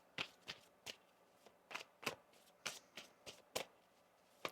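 Tarot cards being shuffled close up, with a series of quick crisp riffles and slaps in an irregular rhythm, quiet and alone.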